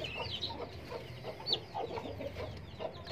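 A pair of guinea fowl calls in short, scattered chirps and clucks, moderately near, over a steady low background hum.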